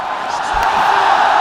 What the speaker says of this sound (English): You can hear the crowd going here through our microphones probably